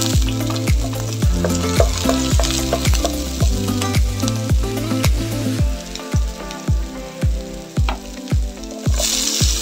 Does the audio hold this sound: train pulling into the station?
no